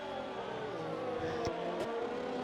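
A Ferrari Formula 1 car at the Mexico race roars past in a sustained high-pitched engine whine, with a couple of sharp transient bursts as it goes by and other cars droning underneath.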